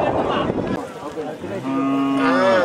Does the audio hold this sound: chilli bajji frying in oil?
no